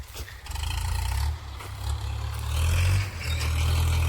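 A farm tractor engine idling and revving nearby with rattling clatter, a loud low rumble that rises and falls over a few seconds.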